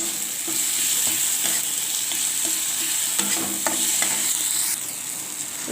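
Tomato and green chilies fry in hot oil with a bright, continuous sizzle, punctuated by the scrape and tap of a spoon stirring up close.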